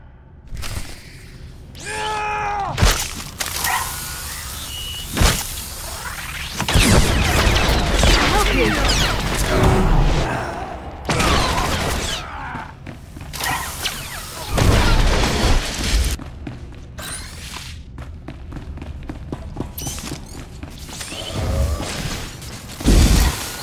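Blaster gunfire and explosions in a Star Wars: The Old Republic cutscene on Nar Shaddaa, with loud bursts of shots, booms and whooshes running through most of the scene, mixed with brief speech.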